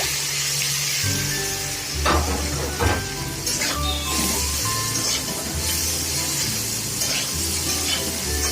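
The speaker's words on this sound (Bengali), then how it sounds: "প্রথমে তেল দিয়ে দিলাম পাঁচ মিনিট মতো নাড়াচাড়া করার পরে মাংসের কিমাগুলো দিয়ে" Minced meat sizzles steadily in hot oil in a pan, with a continuous frying hiss broken by occasional stirring scrapes and clinks of a utensil.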